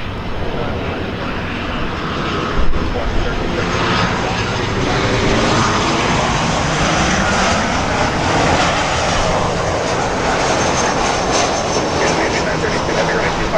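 A fixed-wing jet airliner takes off from the 24R/24L runways at Los Angeles International Airport, its engines producing a loud, steady roar that fills the whole stretch, with faint voices in the background.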